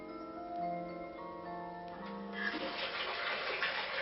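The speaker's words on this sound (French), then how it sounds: "sans quitter son lit, on fait couler son bain" Water runs into a bathtub in a computer-controlled home, starting as a steady rushing pour about midway through. Before that there are sustained electronic tones, and no one speaks.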